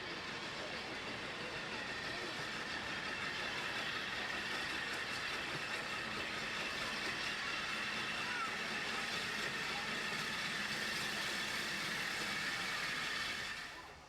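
A steam train on the Worth Valley line between Haworth and Oxenhope makes a steady, fairly distant rumble with faint hiss and clatter that holds throughout before tailing off at the end.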